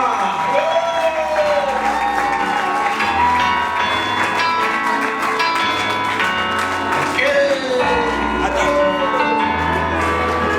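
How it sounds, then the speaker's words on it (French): An audience at a comedy show claps and cheers in a steady, dense wash that lasts throughout, mixed with loud music, sliding tones and voices on top. "Applaudissez très très fort."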